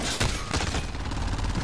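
Gunshots from a video game gun: several sharp, close reports in a rapid cluster, loud and dense with little pause between shots.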